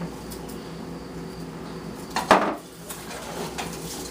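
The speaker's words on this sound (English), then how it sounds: "And now we add in the tomatoes, and we will also be adding in the spices." Tomatoes and spices tipped into a jambalaya pot, a single clattering knock of utensil against metal over a low steady background hum, close by and without speech.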